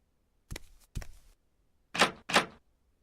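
A locked door in the point-and-click game Dead Synchronicity being tried and refusing to open: two soft rattling clunks followed by two louder, harsher jolts, each short and isolated against silence.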